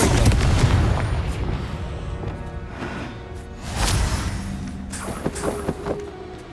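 Confringo blasting-spell explosions in the video game Hogwarts Legacy: a burst of booms and crackling impacts up front, then scattered smaller pops and bangs trailing off amid combat noise.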